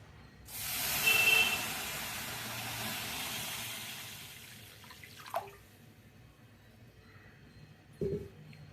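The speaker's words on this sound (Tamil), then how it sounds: "இந்த கப்பில் வந்து மூணு கப்பு தண்ணி அளந்து வச்சுருக்கேன் அதை அப்படியே இதில் போட்டுக்கலாம்" Water poured from a cup into a cooking pot while making Kumbakonam kadapa, a soft hissing splash lasting a few seconds, then two faint clinks of utensils.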